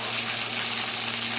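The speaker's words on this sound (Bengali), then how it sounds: "কুচু কুচু করে পেঁয়াজ দিয়ে কাঁকরোল ভাজা" Chopped spiny gourd (kakrol) with onion fries in hot oil, giving a loud, continuous, even sizzle close by with no voices.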